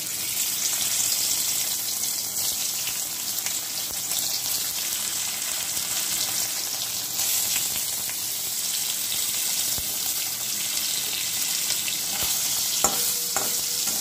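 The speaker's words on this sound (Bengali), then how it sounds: "প্রথমে আমি পনিরগুলোকে ভেজে নেব।" Paneer pieces frying in hot oil in a pan give a steady, close sizzle throughout, with faint stirring and a few brief clinks near the end and no talking.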